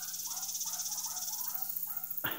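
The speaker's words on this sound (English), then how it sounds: "I hear a dog barking." A distant dog barks in a steady series of short yelps, outdoors over a constant high insect drone.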